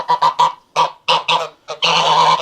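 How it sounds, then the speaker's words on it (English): Geese honk loudly in a quick series of calls, ending in a longer, continuous honking chorus, close by. "The geese are basically staying in here"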